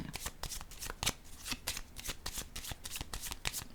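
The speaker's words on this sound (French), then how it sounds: "Je vais déposer une carte sur l'espoir à l'envers." Tarot cards being shuffled and laid down, a quiet close run of rapid papery riffles and flicks with soft taps, no talk.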